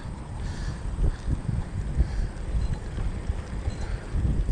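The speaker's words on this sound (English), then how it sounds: "That's quite the breeze." A breeze buffets the microphone outdoors during a ride, producing low rumbling gusts that swell and ease irregularly, moderately loud with no talking.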